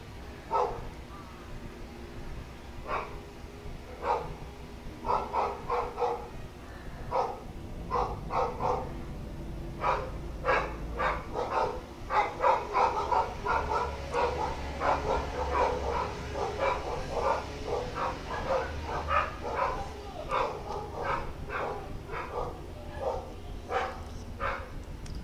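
Several dogs bark at a garbage truck driving uphill, repeated loud barks and yips in uneven bursts over a low rumbling engine, with occasional voices underneath.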